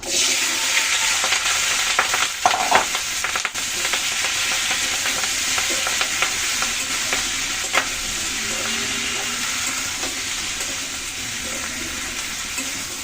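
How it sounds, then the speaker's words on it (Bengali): Onion stalks sizzle steadily in hot mustard oil with turmeric, a loud continuous frying hiss with brief stirring clatter and spatters, without any talking. "পেঁয়াজ কলিগুলো দিয়ে দিলাম।"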